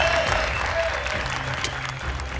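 Audience applause on a TV game show fills the room at the final chance, loud, dense clapping that holds steady throughout with no break.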